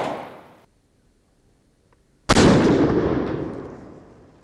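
A 12 bore shotgun fires one 28 gram Black Gold 7.5 cartridge at a pattern test: a brief rustle, a long silence, then a single loud, close blast with a long fading echo.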